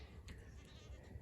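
A goat on a farm gives a short, faint bleat in the open air, with no talking over it.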